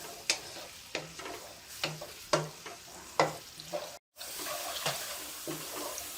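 Green garlic and carrots frying in a pan while being stirred, steady close sizzle broken by repeated spatula scrapes and knocks every second or so.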